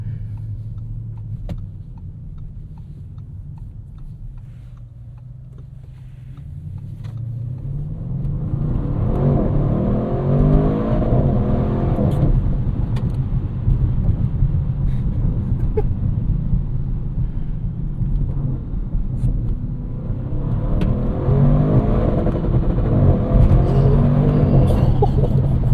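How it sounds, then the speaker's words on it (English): A 2025 Audi RS6 Avant estate with a twin-turbo V8 idles with a low burble, then revs up to the rev limiter and holds there with a loud, steady roar, drops briefly, and climbs back to a second sustained limiter blast. "I just had to show you guys what the rev limiter sounded like"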